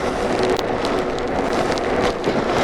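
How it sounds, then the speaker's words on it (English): Rain falls steadily outdoors during a helmet-camera ride through light traffic, a dense, even hiss with crackling drops on surfaces, continuous and fairly loud, with no talk. "As you can see, it's raining."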